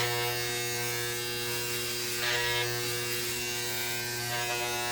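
Electric hair clippers buzz steadily while tapering the sides of a haircut, a close, continuous droning hum with a slight change in tone partway through and no speech.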